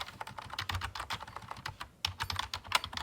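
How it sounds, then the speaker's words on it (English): Rapid typing on a computer keyboard, a steady stream of close, crisp key clicks with a brief pause midway before the keystrokes resume. "let's type some more"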